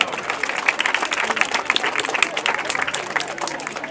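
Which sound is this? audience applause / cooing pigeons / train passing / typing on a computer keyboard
audience applause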